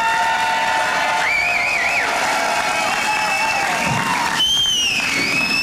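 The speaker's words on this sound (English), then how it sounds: "How about a nice round of applause?" At a barbecue Hall of Fame awards ceremony, a crowd applauds and cheers an honoree, with steady clapping mixed with whistles and shouts that rise and hold throughout.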